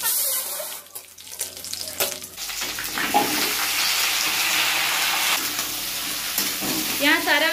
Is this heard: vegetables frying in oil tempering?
yes